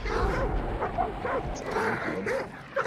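Dogs bark and yip repeatedly inside the video game Hunt: Showdown 1896, a steady run of short calls across the clip that stays fairly loud against game background noise.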